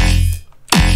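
A heavily processed, distorted burst of sound, then a brief dip to near silence, and a loud, abrupt stuttering return with a glitchy, chopped texture.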